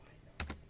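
Two quick keystrokes on a computer keyboard, entering a number into a Facebook racing game, sound close and crisp against a faint steady background hum.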